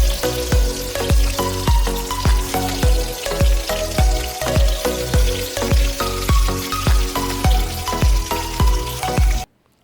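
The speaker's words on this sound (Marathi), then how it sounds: "आता कढईमध्ये मी ते पुन्हा तेल गरम करून घेतले आणि आपण जी भरलेली वांगी आहेत ना ती एक एक करून ह्या कढईमध्ये ठेवून घ्यायचेत" Stuffed brinjals with dried shrimp frying in hot oil in a kadhai, with loud, continuous sizzling and crackling. A steady run of sharp spattering pops sounds close up throughout before it stops abruptly.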